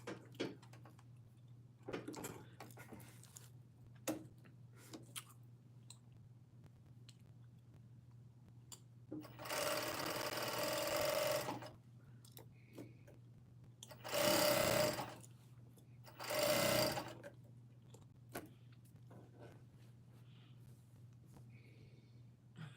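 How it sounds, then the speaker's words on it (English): A home sewing machine stitches a neckband onto a New Look 6752 garment in three loud whirring bursts, the middle and last ones short. A steady low hum and soft handling noises fill the quiet gaps between them. "I got my neckband all on. I need to sew it on."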